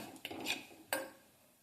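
Spoon scraping and clinking in a pan as coriander powder and Kashmiri chilli powder are stirred into a tomato curry, two short clatters over a quiet background, no talking.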